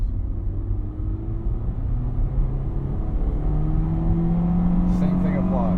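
A manual-transmission car's engine hums and climbs in pitch as it accelerates through a gear change, a close, steady rumble heard from inside the cabin.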